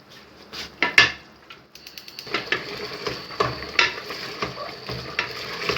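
Chicken pieces for korma are stir-fried bhuna style in a pan, giving close sizzling broken by repeated metallic scrapes and clanks of the spatula in an uneven rhythm, with no talking.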